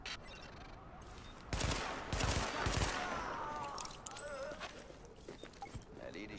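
A burst of rapid gunfire erupts in the middle of the video game The Division, followed by scattered shots and electronic effects over a steady game soundtrack.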